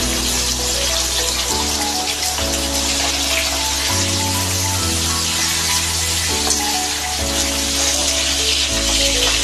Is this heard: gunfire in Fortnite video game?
no